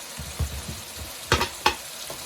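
Keema cooking with chopped green bell pepper in a hot pan, sizzling steadily while being stirred, with a few scraping clatters of the spoon against the pan.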